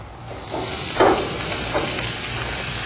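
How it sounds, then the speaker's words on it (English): Steady, loud sizzling hiss of baby back ribs cooking bone side down on a hot grill, continuous throughout with a few brief crackling bursts. "Here's some good sizzling, we got a good temperature."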